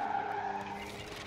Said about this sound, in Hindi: यहाँ पर BMW 2018 रोडस्टर्स को हम ड्राइव कर रहे हैं